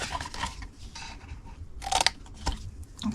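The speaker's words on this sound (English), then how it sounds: "we're just going to cut straight across and get rid of them" Scissors snip across extra punched paper pieces on a stamped Easter treat box, a few close crunchy cuts with one sharper snip near the end, nobody speaking.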